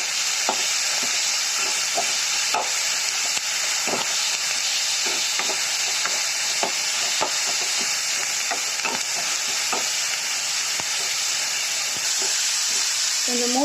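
Salted tomatoes sautéing in a pan give a steady, loud, close hiss of steam and sizzle, with scattered ticks and spatter pops throughout and a brief clatter at the end.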